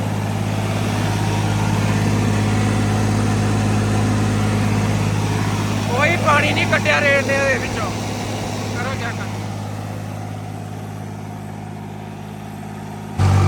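An overheated New Holland tractor engine idles with a steady, loud low drone throughout, while someone talks over it.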